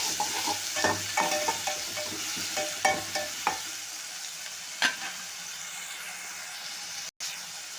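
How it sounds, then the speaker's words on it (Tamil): Ginger garlic paste is stirred into browned onions frying in a pan for pepper chicken. A steady sizzle runs under repeated scraping strokes of a spoon, close and fairly loud, then eases off toward the end. "இப்போ இஞ்சி பூண்டு பேஸ்ட்டு போட்டுக்கலாம். போட்டு நல்லா கிண்டி விட்டுக்கலாம்."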